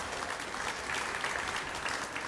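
At a back-to-school press conference, an audience gives a moderately quiet but steady round of applause, a continuous wash of many hands clapping at even level from start to finish.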